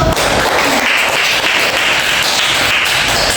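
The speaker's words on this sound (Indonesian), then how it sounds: "Tepuk tangan dulu untuk." Applause from a classroom group during a micro-counselling session, dense and loud clapping filling the whole stretch without pause.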